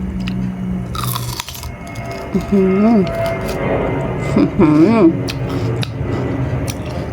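Crunchy bites and chewing of makhao wua makhao khwai fruit, a sour fresh fruit, with close wet crunches under light talking and a few short vocal sounds.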